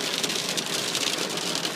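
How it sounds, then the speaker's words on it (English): Heavy hail pounds on a car parked at the roadside, making a loud, dense, unbroken drumming roar with no gaps. "We are pulled over on the side of the road because the hail is so heavy."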